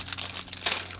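Small plastic bags holding parts for an Ottsix Wizard C2 rock crawler kit crinkle and rustle close up in quick, uneven bursts of handling with no talk over them.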